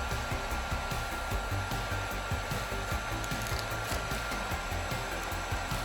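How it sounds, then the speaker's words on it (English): A heat gun blows steadily close by while melting adhesive on a Dragon's Lair arcade cabinet during restoration, a continuous airy roar with faint knocks and scraping mixed in underneath. "I'm going to take the heat gun and just kind of melt this adhesive underneath"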